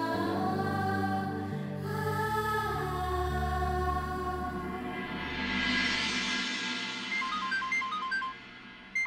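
A melodic mobile phone ringtone plays loudly and continuously, its repeating electronic tune ringing on with no one answering.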